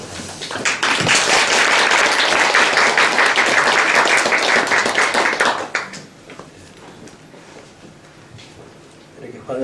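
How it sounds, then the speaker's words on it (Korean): A church congregation at a gathering in Seoul's Daehangno church breaks into loud, full applause to welcome a speaker, sustained for about five seconds before abruptly dying down to a quiet room murmur. "선생님 나오실 때 따뜻한 박수로 이렇게"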